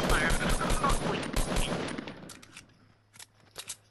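Rapid bursts of gunfire in Fortnite, a dense run of close shots that thins out into a few scattered, quieter shots near the end.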